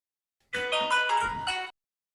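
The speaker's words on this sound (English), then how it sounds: "The welcome tone." Samsung Galaxy S10 5G welcome tone playing after a One UI 8 ArtisanROM custom ROM install: a bright, layered electronic chime melody of a few quick notes, lasting just over a second, clear and alone.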